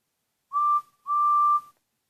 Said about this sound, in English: takes them away, but not without blowing her whistle